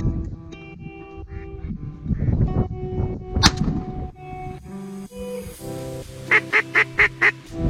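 Ducks quack amid other bird calls during a hunt, followed by a quick rhythmic run of about five loud quacking calls, likely from a duck call.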